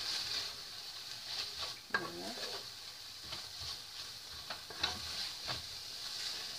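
Pasta with tuna, salt and black pepper stirred in a pan, a soft sizzle with occasional scraping strokes and light clinks of utensil on pan, quiet and close.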